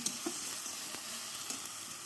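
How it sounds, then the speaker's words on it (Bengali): Ginger and garlic paste fry with onions in a pan over a wood fire, a dense continuous sizzle with light stirring ticks and no voices. "পেঁয়াজটা ভাজা ভাজা হয়ে গেলে এবার আদা বাটা রসুন বাটা দিয়ে দেবো"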